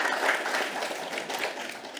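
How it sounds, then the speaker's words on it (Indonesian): Audience applause at an Indonesian small-business workshop panel, a brief steady patter of clapping heard at a distance and fairly faint. "kita berikan tepuk tangan dong buat Pak Steve."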